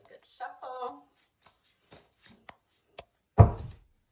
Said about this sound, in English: Give it a really good shuffle.